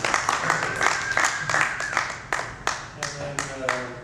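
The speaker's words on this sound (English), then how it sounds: "applause for Katie" Scattered hand claps from a small group in a bar, uneven and sparse, with a voice talking underneath.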